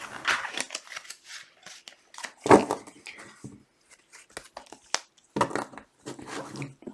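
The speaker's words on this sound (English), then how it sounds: "Let me do 2 more shuffles to see if any other cards need to come out." Tarot cards shuffled by hand during a love reading, giving a run of papery riffles, crinkles and soft slaps in irregular bursts, fairly close and moderately quiet, with one sharper snap midway and no talking.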